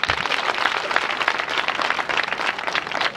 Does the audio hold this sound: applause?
yes